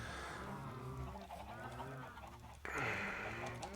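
Chickens in Minecraft cluck and squawk in short irregular calls, close by, over a steady low ambient background.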